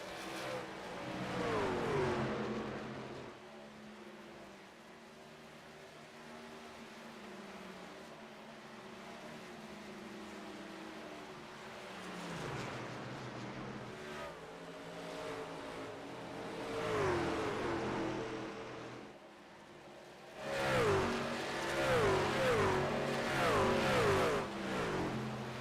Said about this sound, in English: Race leaders go flying by.